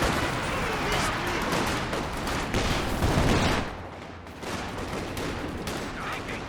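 An artillery barrage in Company of Heroes 2 sounds as a dense, continuous roll of explosions and gunfire. It is loud and sustained, dips briefly, then builds again, with a commentator talking over the battle.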